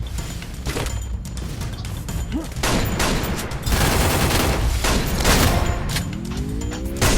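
Rapid gunfire in the Free Fire game, dense bursts of automatic shots rattling continuously at close range, with some heavier impacts and brief voice chatter underneath.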